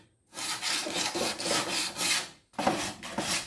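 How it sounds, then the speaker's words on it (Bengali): Wood being rubbed smooth by hand while building a swing, heard as steady rhythmic scraping strokes up close, a continuous run of rasping passes, a brief pause, then several more strokes. "সুন্দরভাবে ঘষে আপনি এটাকে তৈরি করতে পারবেন সুন্দরভাবে ঘষে পরিষ্কার করে নেবেন"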